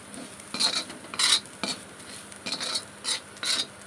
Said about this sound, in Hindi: अब सभी मसालों को अच्छी तरीके से भून लेंगे